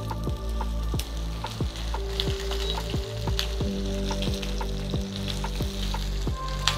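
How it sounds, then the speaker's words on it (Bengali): Ridge gourd frying in an oiled pan after a tempering of spices, a steady close sizzle broken by repeated scraping stirs of a spatula, with no talk. "ঝিঙেটা এবার খানিকক্ষণ ফ্রাই করতে হবে"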